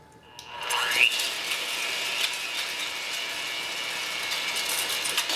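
An electric mixer whirs steadily through a small batch of vegan chocolate cupcake batter, starting up after a brief pause and then holding a continuous, close, buzzing motor drone with light rattling from the beaters against the bowl.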